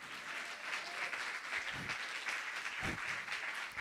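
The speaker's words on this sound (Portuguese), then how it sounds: "Dê uma salva de palmas ao Senhor" Church congregation applauding during a morning service, a steady dense wash of many hands clapping that stays fairly even throughout, with a few low thumps beneath and no talk over it.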